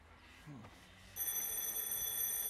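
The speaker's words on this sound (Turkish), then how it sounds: "Kalksana adam, kapı çalıyor diyorum." An indoor doorbell begins ringing partway through in a steady, sustained electronic ring that is fairly faint and follows a quiet, murmuring room.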